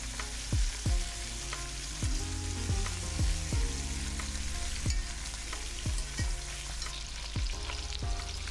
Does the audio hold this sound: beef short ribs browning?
yes